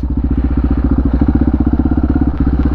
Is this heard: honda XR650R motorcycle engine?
yes